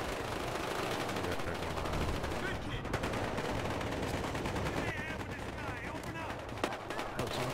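Rapid bursts of gunfire from the police-and-criminals shooter Battlefield: Hardline during a heist, with automatic fire crackling continuously throughout and a few sharper single shots near the end.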